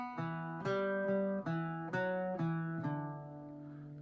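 An Irish bouzouki plays the second line of the tune The Butterfly alone, with about seven ringing plucked notes in an even lilting rhythm. The last note is left to decay.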